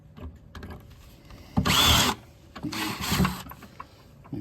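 A power drill fitted with DeWalt drill bits whirs in two short bursts, close and moderately loud, with workshop noise between them.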